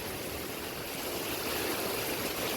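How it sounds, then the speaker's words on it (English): Steady rain from Hurricane Ian pours down in a dense, even hiss that holds constant throughout, close and moderately loud. "The rain is falling."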